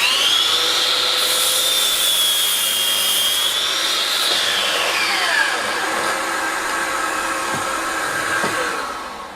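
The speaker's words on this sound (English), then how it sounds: "The vacuum started up by itself and turned off by itself." A Makita VC004G 40V cordless vacuum hooked up to a 305mm mitre saw runs with a steady, loud whine that shifts pitch, then winds down as it shuts itself off, with no talking.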